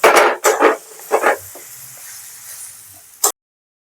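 A spoon scrapes and stirs a thick chana dal filling in a pan, giving a few loud, quick strokes at the start, then quieter scraping, and ending with one sharp knock.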